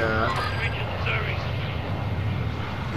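Steady drone of an airplane engine in Warzone 2.0, a continuous loud hum filling the whole stretch with players' voices talking over it.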